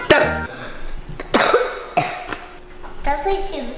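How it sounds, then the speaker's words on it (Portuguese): Several harsh coughs in bursts, close by, with a voice and other voices mixed in between them. "Dá pra parar de tossir no começo do meu vlog?"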